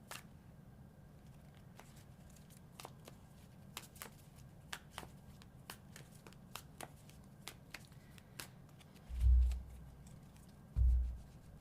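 Tarot cards are shuffled by hand in a quiet room, giving soft, crisp riffling clicks at an irregular pace, followed by two low dull thumps near the end.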